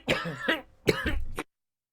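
A person close to the microphone coughs and clears their throat in a few harsh bursts, two quick coughs followed by a longer rasping one, before sudden quiet.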